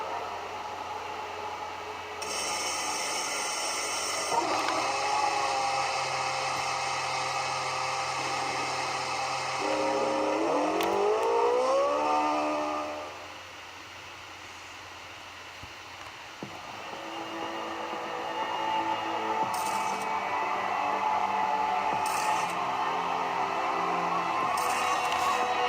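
F1 cars idle and rev for the Hungarian Grand Prix in the video game F1 2013, a steady engine hum with a rising whine partway through, a brief quieter lull, then the drone builds again.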